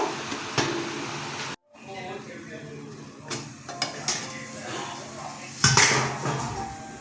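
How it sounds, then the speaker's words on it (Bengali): A metal lid clanks onto a pot of eggplant cooking for mashed eggplant bharta, with a few sharp clatters over a low kitchen sizzle and a brief hush between. "আমি এখন ঢেকে দিচ্ছি কিছুক্ষণের জন্য"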